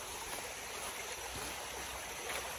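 Gentle stream water flowing steadily through a bamboo forest near a hut, a soft continuous wash of trickling and rushing at low level with no voices.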